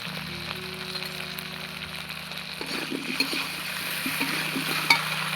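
Ginger paste and cumin-coriander paste frying in a pan for a pangas fish curry with yam, a steady close sizzle with soft stirring clicks and scrapes growing busier toward the end, no voices.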